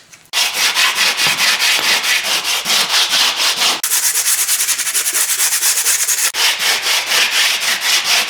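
Continuous hand sanding on satin black painted dash trim of a Datsun under restoration, a steady close scratchy rubbing in quick back-and-forth strokes with two brief pauses, no talking.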